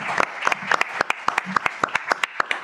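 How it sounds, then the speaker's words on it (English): Sparse audience applause welcoming speaker Tim Sharp at a public talk on the Employment Rights Bill, individual distinct claps in an irregular rhythm over a soft bed of clapping, fairly close. "So I hope you'll give him a warm round of applause, at least before he speaks."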